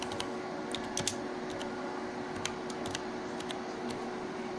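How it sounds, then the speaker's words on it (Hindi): Typing on a computer keyboard while entering data into a Microsoft Excel spreadsheet. Soft, irregular key clicks tap along at a quiet level over a faint steady room hum. "मैं टाइपिंग कर रही हूँ"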